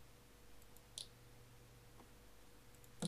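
A computer mouse gives a single sharp right click, followed by a couple of fainter, softer clicks and a final louder click, set against a quiet background hum.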